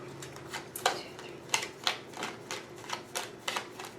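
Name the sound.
shuffling tarot cards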